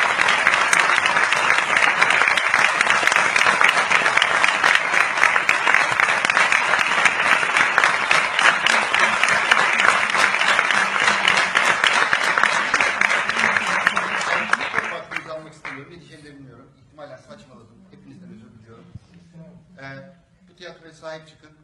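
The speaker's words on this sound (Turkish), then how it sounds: "Ona bir alkış rica ediyorum." A theatre audience claps loudly and steadily for about fifteen seconds, then the applause drops away and a voice starts speaking.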